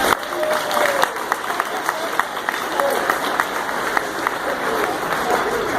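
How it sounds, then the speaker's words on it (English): Audience applause for a school band's saxophone section at a 2016 Christmas show, steady dense clapping throughout with scattered louder claps and faint voices mixed in. "if you could give them a round of applause when they stand, that would be greatly appreciated"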